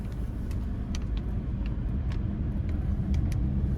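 A 2013 Audi A8 L with its supercharged 3.0-litre V6 engine, driven on the road, gives a steady, loud low rumble with constant road and engine drone and no talking.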